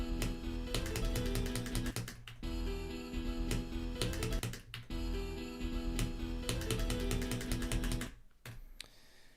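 Computer keyboard keys clatter in quick, dense bursts of typing, broken by short pauses, close and steady at moderate loudness.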